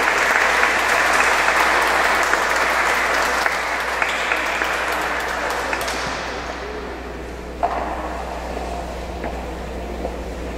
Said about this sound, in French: Alors on peut applaudir ces enfants, n'est-ce pas, qui augmentent la famille des enfants de Dieu